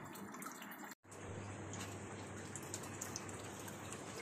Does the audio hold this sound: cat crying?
no